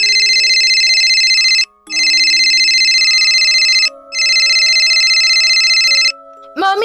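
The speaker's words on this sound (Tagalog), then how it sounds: "Tawagan mo nga ulit si na mami at daddy, Nadia." Telephone ringing while calling parents: three long, loud electronic rings separated by short silent gaps, followed by a brief rising tone at the end, close and clear.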